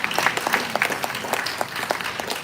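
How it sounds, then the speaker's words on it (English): Lively audience clapping at a university event, a dense patter of many hands with individual claps standing out in quick irregular rhythm, loud and close, with no voices over it. "So you're not clapping for me"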